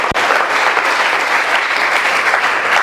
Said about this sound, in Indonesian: Berikan sorak-sorai buat Tuhan yang dahsyat.